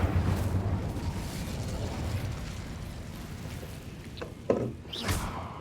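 The Incendio fire spell is cast in the video game Hogwarts Legacy: a loud, roaring burst of flame opens and slowly fades, followed near the end by a few sharp pops and crackles.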